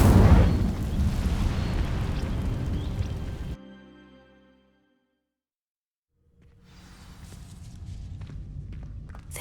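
An Incendio fire spell in Hogwarts Legacy bursts into a loud, roaring blaze over dry vines for several seconds, then cuts to near silence before a low rumble gradually builds back up.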